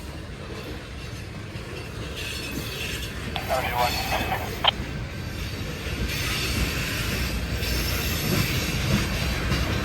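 A Union Pacific freight train rolls past outside Hull Ave Yard on a railroad bridge over the Des Moines River, with a continuous rumble, squealing wheels and a brief rhythmic clunk from a wheel with a flat spot.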